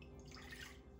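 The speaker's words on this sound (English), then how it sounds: "To our saucepan, we add 1 cup of water" Water poured into a heavy-duty saucepan on a stovetop while making blueberry sauce for oven-baked French toast, a steady close trickle with faint dripping, no talk.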